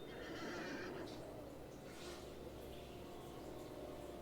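A horse whinnies in a video game, a faint neigh over a constant background wash of game ambience, low in level and somewhat masked, with no voices.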